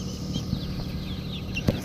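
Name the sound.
chickens clucking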